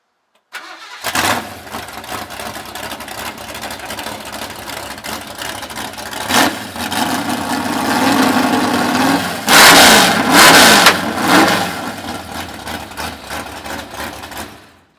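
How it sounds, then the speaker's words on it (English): A small-block Ford V8 in a drag car fires up and settles into a loud, rough idle. It builds through a steady rumble to several sharp, loud revs near the end, with no talking. "It's got a pretty rowdy little small block Ford in it"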